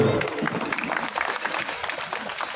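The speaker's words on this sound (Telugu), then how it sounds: "చప్పట్లు కొట్టాలి అందరూ." Audience applause at a felicitation ceremony honouring a senior journalist, a steady wash of clapping from a seated crowd that continues throughout at moderate loudness.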